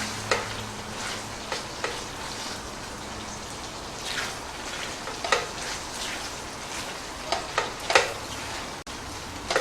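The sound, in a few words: stirring potato cubes in rendang sauce in a pan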